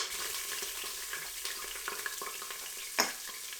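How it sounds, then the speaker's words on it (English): Garlic and ginger sizzle and pop in hot ghee in a pot, a continuous bright frying hiss with scattered crackles and one sharper pop near the end, close and alone with no voices. "The ghee is now hot and popping because there's a bit of liquid in there."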